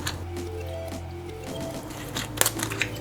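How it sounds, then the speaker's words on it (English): Garlic squeezed through a press during keto meal prep in a home kitchen gives a short wet squish near the end, over a steady background of sustained tones. "And I'll press some garlic."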